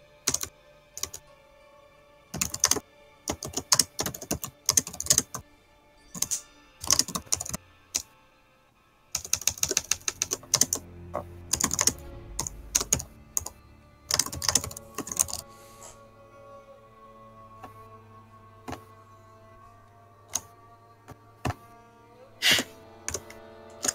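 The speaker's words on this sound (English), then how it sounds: "I'm typing right now." Someone types on a computer keyboard in irregular bursts of quick, crisp key clicks with pauses between runs. The typing is close and fairly loud, with faint background hum.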